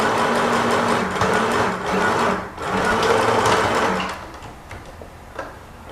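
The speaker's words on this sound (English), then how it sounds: "Now here's where the machine comes in handy. We'll stitch all of those seams." A sewing machine stitches the seams of flexi lace camisole pieces, running in steady continuous bursts with two short pauses before slowing and fading into quieter fabric handling near the end.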